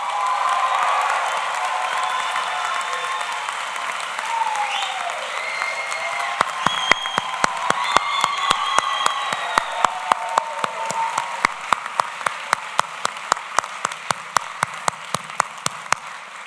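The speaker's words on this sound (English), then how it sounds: "a heartfelt round of applause" Sustained audience applause fills a commencement ceremony hall, a dense steady wash of many hands clapping, with a few louder individual claps standing out sharply toward the end as it continues.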